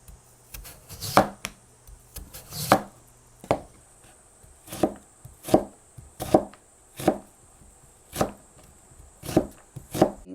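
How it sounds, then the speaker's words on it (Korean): A knife cuts radish into fine strips on a cutting board, landing about a dozen crisp, sharp chops in an unhurried, fairly even rhythm, close and clear with nothing else heard. "무는 그냥 깨끗하게 이제 해가지고 채를 잘 썰어야죠"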